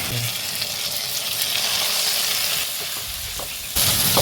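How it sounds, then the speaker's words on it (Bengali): Cumin paste hisses and sizzles steadily in hot oil over lightly browned onion and bay leaf, a loud continuous frying noise with a sharp burst near the end and no talking. "জিরের পেস্টটা দিয়ে দেবো।"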